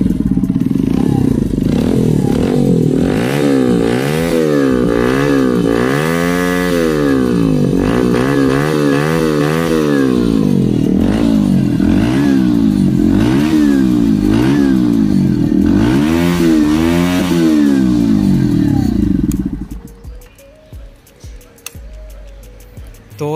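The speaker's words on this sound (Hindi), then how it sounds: "थोड़ा सा बाइक का नॉइस भी सुना देता हूँ आप लोगों को" A Bajaj Pulsar NS 125 motorcycle with an aftermarket silencer revs repeatedly up and down with a loud, throaty exhaust note, then drops to idle and clatters near the end.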